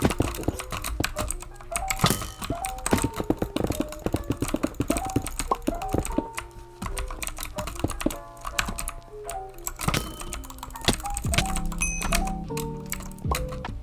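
Rapid typing on a mechanical computer keyboard fitted with swapped keycaps, close and clacky, with irregular bursts of keystrokes and no talking.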